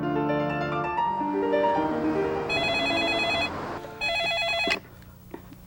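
A telephone ringing, with bright repeated electronic bell tones sounding in pulses over a background of music, then cutting off abruptly.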